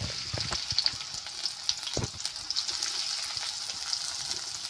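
Onion frying in hot oil in a home kitchen pan, a steady bright sizzle with occasional stirring knocks and scrapes, close and continuous with no talking.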